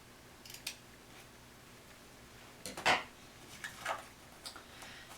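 Scissors trim paper for a handmade card, giving a few quiet, close snips spread irregularly over several seconds with short gaps between.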